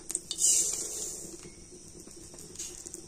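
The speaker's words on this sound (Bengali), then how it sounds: "আর এবার আমি ঘিয়ের মধ্যে দিয়ে দেব গোবিন্দভোগ চাল।" Gobindobhog rice pours into hot ghee in a pan for a rice sweet, giving a bright crackling burst of sizzle and patter that settles into a steadier, softer fry over a few seconds.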